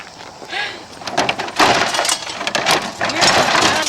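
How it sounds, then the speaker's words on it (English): Glass shatters with crashing, clattering bursts as an out-of-control lawnmower breaks it outdoors, loud and close, followed by continuing debris noise. "Sounds like breaking glass."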